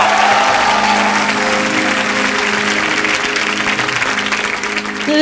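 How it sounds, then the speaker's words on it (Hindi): Loud studio audience applause on a comedy show, a thick continuous roar of clapping with a sustained tonal hum running beneath it throughout. "तो हो जाए जोरदार तालियां।"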